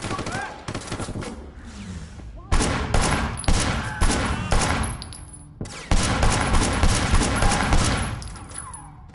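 Sleeping Dogs video game shootout with an enemy wielding a shotgun: dense, loud gunfire in rapid overlapping volleys, separated by brief pauses, with a voice faintly talking underneath.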